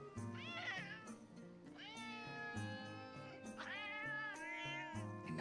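Cat in Metal Gear Solid Peace Walker giving a few long, rising and falling meows over soft background music, close and clear.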